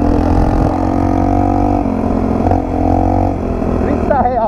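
A Yamaha XTZ125 motorcycle engine running steadily on a dirt trail, a loud, close, even mechanical thrum with slight shifts in pitch, while someone talks over it.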